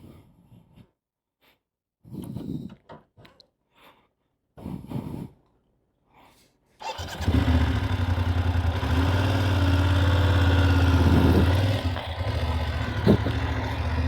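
Motorcycle pulling away for a slow-speed U-turn riding drill, a low engine rumble rising and holding steady for several seconds after a few short muffled knocks and rustles.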